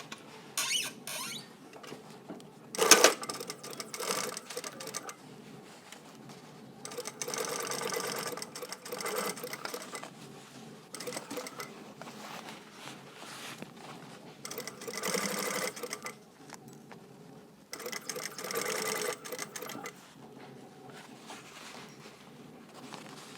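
A sewing machine runs stitching lines on a blazer's double jet pocket, humming and clattering close by in several bursts of steady stitching separated by brief stops, with no speech.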